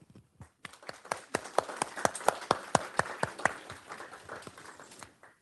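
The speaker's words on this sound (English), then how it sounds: "Please join me in giving them a round of applause" A conference audience claps together in a steady, fairly quick rhythm, each clap crisp and close. The clapping builds over a few seconds and then trails off, with no voices over it.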